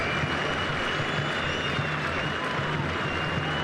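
Steady applause from a football stadium crowd at a Turkey versus Greece Euro 2008 qualifier, a continuous wash of clapping and crowd murmur at moderate distance.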